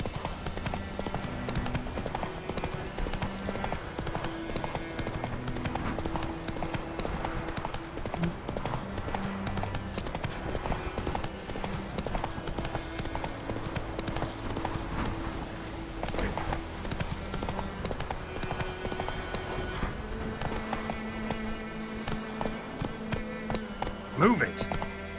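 Horse hooves clip-clopping in a steady rhythm while riding in The Witcher 3 video game, heard continuously under game music and occasional speech throughout.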